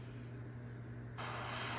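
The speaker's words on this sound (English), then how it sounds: "And then I spray on it." Spray paint hisses out of a can onto a stencil laid flat over a small project piece, one steady burst starting partway through and running to the end, close and fairly loud.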